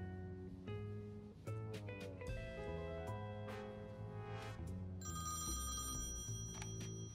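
An electronic telephone in the video game Thimbleweed Park rings in repeated bursts, each a bright, tonal chime with clear gaps between rings. Background game music plays beneath it, and nobody speaks.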